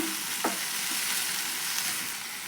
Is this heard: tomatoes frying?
yes